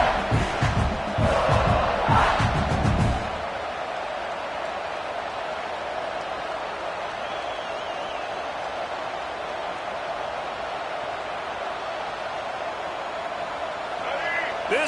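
A stadium crowd in a football video game roars steadily throughout, a loud sustained wash of cheering with a brief louder burst near the start.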